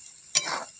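Onions frying in oil in a pot over a wood-fired village stove give a short burst of sizzle and stirring. It is close, moderately loud and fades within a second, with no talk.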